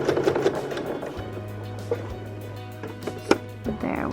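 A sewing machine quilts a fabric coaster, its steady motor hum running evenly for a few seconds with soft mechanical clicks and a brief louder tap near the end.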